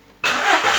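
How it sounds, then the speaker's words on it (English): A stick-shift car's engine cranks and fires abruptly after a brief hush, roaring loud and close, then holding a strong, steady run. "start the car"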